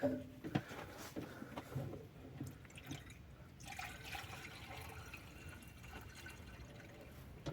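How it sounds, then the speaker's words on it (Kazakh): Water dripping and trickling from a radiator tube on a GAZelle van with a boiling-coolant fault, faint irregular drips and splashes over a low background, louder at the start. "Осы трубкадан су шығу керек."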